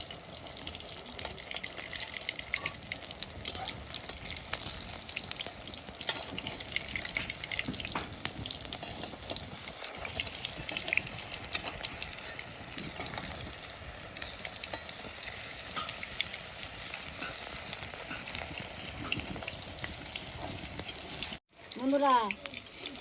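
A vegetarian chop fries in hot oil with a steady, close sizzle and crackle that carries on without a break, then ends in a brief disturbance near the finish.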